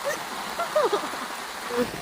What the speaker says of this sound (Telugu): చూడండి ఎంత వర్షం వస్తుంది